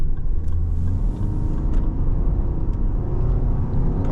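A 2024 Lexus LM 350h hybrid with a CVT accelerating on the road, heard from inside the cabin as a loud, steady low rumble and road roar with a smooth, even engine drone.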